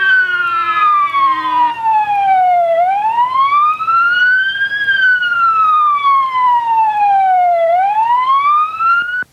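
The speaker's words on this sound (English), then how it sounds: "As you can see, the fire truck is followed by the fire van" Fire truck and ambulance sirens sound in a street parade, heard as one loud, close siren wailing in slow rising and falling sweeps with a faint vehicle rumble underneath.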